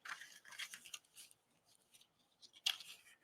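Printable paper pieces for a junk journal are folded into envelope pockets, making quiet, close crinkles and soft creasing rustles in short bursts, with one sharper rustle near the end.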